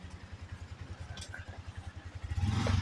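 A Yamaha Sniper 155cc motorcycle in Tagaytay idles nearby with a steady, rapid putter, then revs up louder in the last moments.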